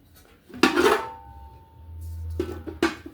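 Metal pots, a kadai and a frying pan, clank and scrape in two bursts, close by, with a quieter stretch of low hum between them.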